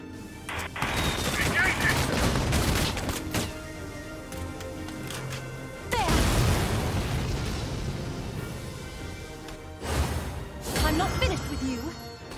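Gunfire volleys and explosive booms in the Valkyria Chronicles 4 battlefield, heavy bursts arriving in several waves with sharp onsets around the start, middle and end, while voices talk over the din.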